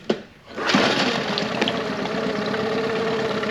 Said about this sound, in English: we got the engine back in the tank. We're just going to run it one more time